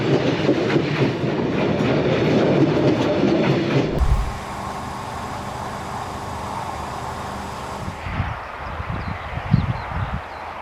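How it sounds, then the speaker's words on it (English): A passing train rolls loud and close past a house's front porch, a broad rumbling roar that cuts off abruptly and drops to a lower, steadier hum with scattered knocks, no voices. "a train runs straight through someone's front porch"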